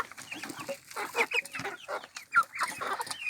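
Hens clucking in a backyard coop, several short, close clucks and squawks repeating irregularly over soft background noise, with no talk.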